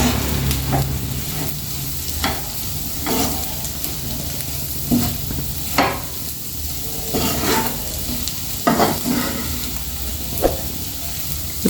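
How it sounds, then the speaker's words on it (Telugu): Egg and onion fry sizzling steadily in a pan, with repeated stirring scrapes and clinks every second or so, close and fairly loud with no talking. "ఫ్రై కదండి కలుపుతూనే ఉండాలండి కలుపుతుంటేనే మంచిగా ఫ్రై అవుతుంటుంది"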